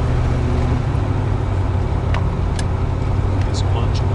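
A car's engine hums steadily with road noise rolling underneath, and a voice talks over it throughout.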